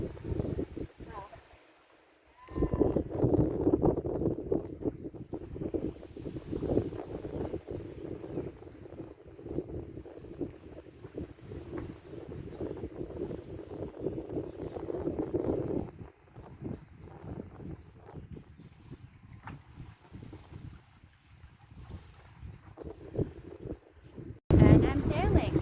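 A sailboat under jib moves through open water off anchor in the Caribbean, with gusty wind buffeting the microphone and water rushing alongside the hull, while a person talks intermittently over it.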